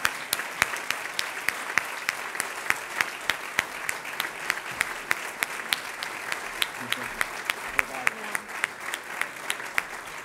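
Sustained applause from an audience at a football club's kit presentation, steady clapping with sharp individual claps standing out, moderately loud and filling the whole stretch without pause.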